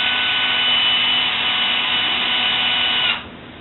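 A power drill on its lowest clutch setting snugs up bolts while tires are mounted on a build, giving one close, steady whir for about three seconds before it cuts off.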